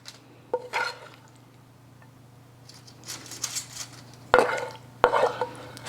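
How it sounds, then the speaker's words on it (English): Turkey and marinara filling being spooned into four spaghetti squash shells for keto lasagna: soft wet scoops and a few sharp clinks of spoon against dish, faint and close, with quiet kitchen hum between. "We're gonna spoon that in there."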